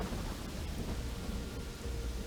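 Rain and rolling thunder in the fantasy video game Pathfinder: Wrath of the Righteous, a dense steady wash of rainfall with low rumbling underneath and no voices.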